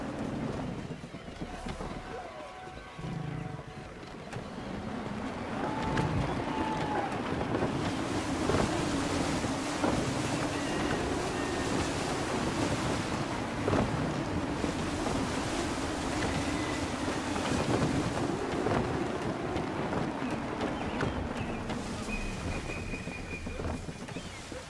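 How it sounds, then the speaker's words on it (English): Gusty wind roars over ocean waves aboard a sailing ship in the video game Assassin's Creed III, a loud continuous rush with a low hull rumble and creaking, brief tonal game sounds scattered through. "Wind looks to be shifting. Stay alert, Connor. Gusty winds can be difficult to manage."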